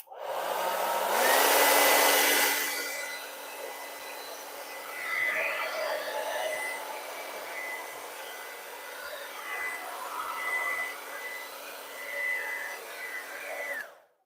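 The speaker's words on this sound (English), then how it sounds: "that blow drying is just to kind of even out the layer so we don't have like a huge thick blob anywhere" A hair dryer blows across a freshly poured layer of paint in a Dutch pour, a loud close whoosh that swells at first and then wavers as it moves over the surface.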